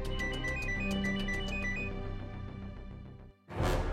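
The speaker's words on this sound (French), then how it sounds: "j'ai mon téléphone qui sonne" A mobile phone ringtone plays a bright repeating electronic melody for about three seconds, loud and close, then cuts off before a short burst of other noise.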